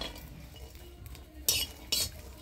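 Garlic, green chili and black cumin dry-roasting in a pan, stirred with a utensil that scrapes and clinks against the metal in two sharp bursts over a low, steady background.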